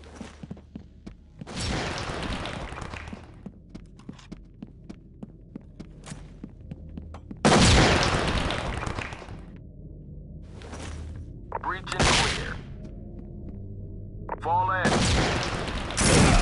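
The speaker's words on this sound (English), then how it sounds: "these idiots are shooting each other." Gunfire bursts in SWAT 4, a tactical police shooter, with suspects shooting one another: several loud broadband bursts at irregular spacing over a low background hum, some lasting a second or more, with quieter gaps and brief clicks between.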